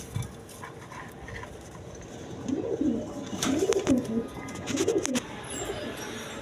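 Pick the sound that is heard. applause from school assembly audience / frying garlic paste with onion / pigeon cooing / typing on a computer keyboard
pigeon cooing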